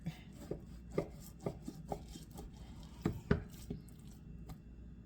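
Beef being chopped into big cubes with a knife on a board, a series of about ten irregular, soft thuds and cuts, close but fairly quiet, with no talking.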